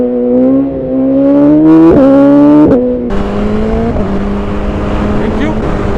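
BMW S1000RR M motorcycle from 2020 with an Akrapovic exhaust, a loud close engine note rising in pitch through several gear changes as it accelerates, with brief dips between gears.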